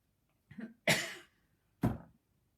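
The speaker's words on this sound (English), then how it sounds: "Right, I'm coughing. I need to cough." A person coughs three times in quick succession: a short, softer cough, then two harsher bursts, close to the microphone in a quiet room, with no talking.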